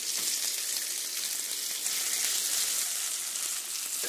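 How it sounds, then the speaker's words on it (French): Pieces of millas, a cornmeal cake, fry gently in butter in a pan over low heat, giving a steady, even sizzle with a soft crackle throughout, close and unbroken, with no voices. "on va disposer nos parts de mia dans le beurre et les faire dorer"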